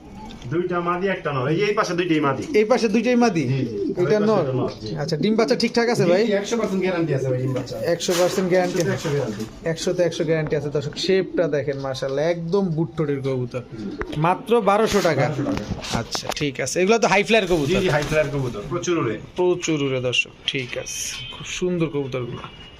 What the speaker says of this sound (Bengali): দর্শক এবার দেখাবো হাঙ্গেরিয়ান বুদাপেস্ট